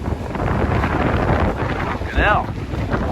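Strong wind roars and buffets a microphone throughout, a steady heavy rush with a brief voice-like sound partway through.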